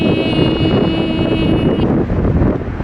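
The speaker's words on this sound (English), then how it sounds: "It is windy" Strong wind buffets the microphone outdoors on a Philadelphia waterfront in November, a steady loud roar with no break.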